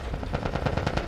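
Rapid automatic gunfire aimed at Fireflies in The Last of Us, a dense burst of sharp, evenly spaced shots that runs without a break through the short clip, close and loud.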